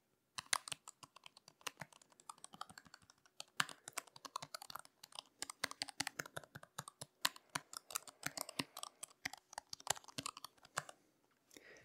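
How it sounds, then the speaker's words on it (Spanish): Rapid typing on an ROG Falchion RX Low Profile mechanical keyboard produces dense, irregular keystroke clicks in quick bursts, close up and alone, with brief pauses between runs. "Vamos a escuchar este teclado."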